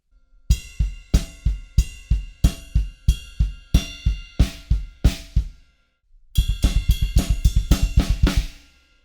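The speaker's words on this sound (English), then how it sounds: "at the end of the phrase, there's 1 extra snare drum in the bar" A steady drum beat with sharp, evenly spaced hits, a short pause, then a denser run of quick snare strikes ending the phrase.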